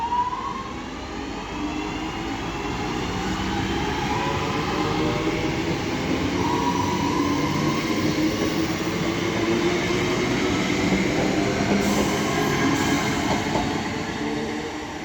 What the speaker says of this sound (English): Now getting ready to depart is 323233 with the 1446 Northern service to Manchester Piccadilly